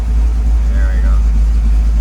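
A 1968 Ford Mustang Shelby Cobra GT500 convertible idles shortly after a cold start. Its engine makes a steady, deep, close rumble with a low, even throb throughout.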